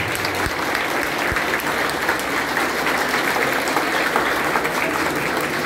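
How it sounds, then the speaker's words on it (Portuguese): A dense round of applause from the audience at a party convention, many hands clapping steadily and loudly for the whole stretch, with no voices standing out. "Eu gostaria de nós batermos uma salva de palmas para essas pessoas."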